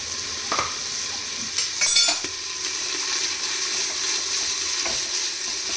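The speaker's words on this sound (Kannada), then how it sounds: "ತರಕಾರಿ ಸ್ವಲ್ಪ ಫ್ರೈ ಆಗಲಿ" Vegetables with ginger and green chilli paste frying in a pan for vegetable moong dal khichdi, a steady close sizzle with stirring scrapes and a brief clink near the middle, no talk.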